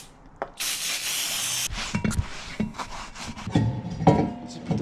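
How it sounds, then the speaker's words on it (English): Brake cleaner sprays in one loud, steady hiss for about a second and a half on an Infiniti G37 brake rotor, followed by scattered rubbing, wiping and handling noises as the rotor is cleaned, with no talking. "Just gonna want to spray it with the brake cleaner and wipe it off."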